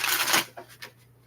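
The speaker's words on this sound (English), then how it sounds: "Last shuffle." A deck of tarot cards is riffled in a quick burst of crisp flutter, followed by a couple of softer taps as the cards settle, close and brief.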